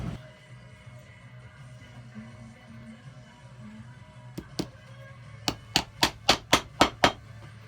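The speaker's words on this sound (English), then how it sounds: "we nail them from the inside with these threaded nails" A hammer drives threaded nails from the inside to fix heels onto vintage Florsheim Imperial shoes during restoration. Two taps are followed by a rapid run of six sharp, close strikes over a low background hum.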